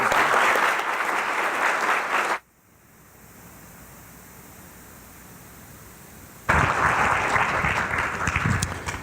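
Audience applause welcoming John Himmelfarb to the stage for an opening talk, loud and steady for over two seconds, breaking off into a quiet pause, then rising again into a second burst of sustained clapping.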